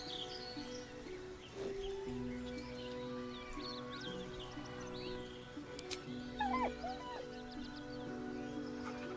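A dog in the video game Baldur's Gate 3 whines with deep, heartbroken whimpers beside a corpse, soft thin cries repeating at moderate distance over a quiet ambient bed with faint bird calls.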